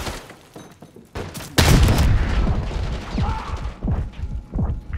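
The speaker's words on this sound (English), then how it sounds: "Frag going out!" A frag grenade blasts in a Call of Duty Black Ops 6 multiplayer match, a loud sudden boom followed by rumbling debris and scattered gunfire, with a shouted voice just before.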